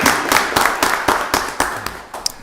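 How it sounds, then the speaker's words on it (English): Room applause at a Rockdale County Board of Commissioners voting session honoring a retired U.S. Navy officer with over 20 years of service: a steady, dense patter of many hands with sharp, louder claps standing out close by, no talking. "Just give him a round of applause for his service."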